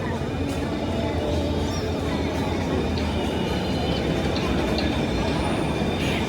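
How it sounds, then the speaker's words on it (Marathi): A Mumbai metro train arrives at Ghatkopar station as a steady, loud rumble of rail noise fills the platform, with faint squeals and distant voices in the background. "तर आता इकडून येईलच थोड्या वेळात ट्रेन आणि आपण त्याच ट्रेनमध्ये बसून जाऊया साकीनाक्याला"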